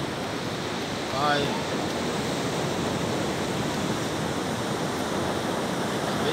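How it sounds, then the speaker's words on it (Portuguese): Strong ocean waves surge and roar continuously at Praia do Ervino beach in São Francisco do Sul, Santa Catarina, a loud, steady broadband wash with wind noise on the microphone and a brief voice. "As ondas hoje estão bem fortes"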